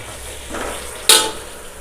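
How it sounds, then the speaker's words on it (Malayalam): A quick stir of onions with curry leaves and salt in a cooking pan makes a short scraping swish followed by a sharp clink of the spoon against the pan, close and brief. "എന്നിട്ട് നന്നായിട്ടൊന്ന് ഇളക്കാം"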